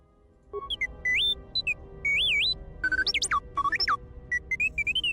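Droid beeping in the video game Star Wars: KOTOR 2, a run of electronic chirps and warbling tones rising and falling in pitch, bursting in quick clusters and short sustained whistles, clear and up front.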